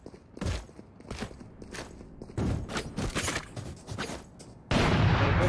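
Shotgun blasts in the video game Blamestone, a cluster of sharp, loud bursts in quick succession, ending in a sustained roar of noise.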